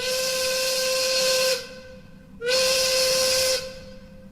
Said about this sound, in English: It stopped at the edge of a ravine before letting out its ghostly whistle once more.